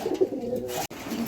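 Pigeons coo on a backyard home farm, soft repeated throaty calls close by, with a brief gap near the end and no talking.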